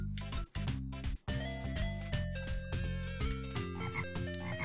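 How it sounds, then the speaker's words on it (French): Frogs croak in a stage of The Lion King on the Mega Drive, with chiptune croaks set among bright, bouncy game music and short effect bursts. "Je déteste tellement ces putains de grenouilles."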